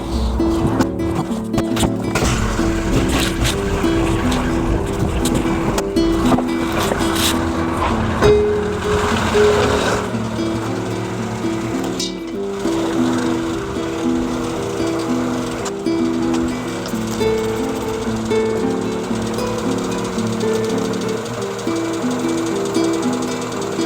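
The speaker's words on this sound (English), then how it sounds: "Just warming the engine up around the back." Honda K-series car engine idling while warming up behind a building, a steady low rumble with layered harmonic tones that holds continuously throughout, fairly close and moderately loud.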